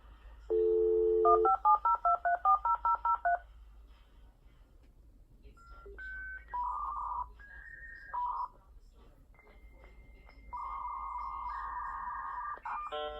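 Dial-up modem tones play from an Amazon Alexa Echo Dot: a burst of dialing beeps, then scattered electronic chirps and warbles, ending in sustained screeching handshake tones, clear and close against a quiet background.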